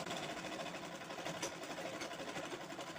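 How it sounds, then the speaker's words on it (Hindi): A sewing machine stitches cloth for a shagun potli bag, running in a steady, quiet, fast mechanical whir for a few seconds without pause. "इस तरह से हम पूरे 20 इंच में इस तरह से सिलाई लगा देंगे"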